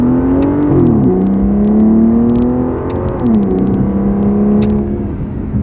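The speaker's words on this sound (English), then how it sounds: "That exhaust is just insane. That's not piped in. That's from the camera mic inside the car. It sounds amazing." A 2011 Aston Martin Rapide V12 drones through its exhaust while driving, heard from inside the car as a loud, steady note that rises and drops with two gear changes.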